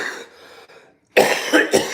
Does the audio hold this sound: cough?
yes